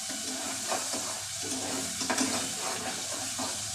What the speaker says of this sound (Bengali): ভালো করে মশলাটা কষিয়ে নিচ্ছি।